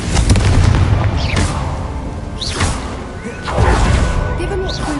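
A Confringo blasting curse in Hogwarts Legacy erupts in several loud booming explosions with crackling bursts and whooshing spell sounds, roughly evenly spaced through dense game action and music.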